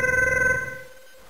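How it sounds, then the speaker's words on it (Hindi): A telephone bell rings loud and close in one trilling burst that then fades out. "टेलीफोन कैसे बजता है?"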